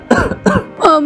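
A cartoon bird's voice gives three quick, raspy coughs in a row, loud and close.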